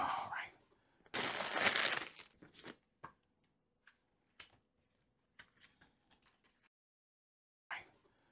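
Plastic packaging of an Estes model rocket kit being opened, with a long loud crinkling burst followed by scattered short rustles and taps, close up and with no talking.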